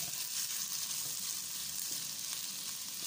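Garlic and onion sauté in a little olive oil, giving a steady close sizzle and crackle throughout with no voices.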